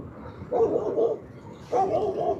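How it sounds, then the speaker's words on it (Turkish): Two short bursts of dog barking a little way off, heard from an electric scooter ride, separated by a brief pause, over quiet outdoor background. "Ne kadar çok köpek var ya."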